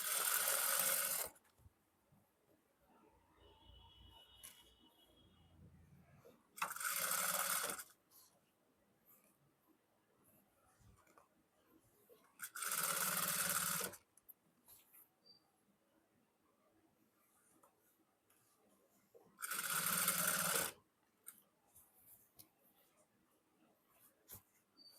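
A sewing machine stitches elastic onto an Afghani salwar in four separate runs of about one to two seconds each, close and loud, with quiet handling sounds and faint talk in the pauses.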